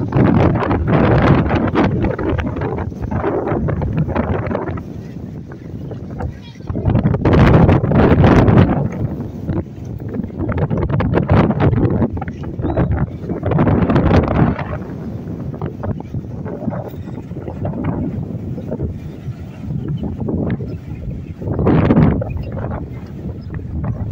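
Wind gusts buffet the microphone at Al Bayt stadium, a continuous rumbling roar that swells and fades in waves.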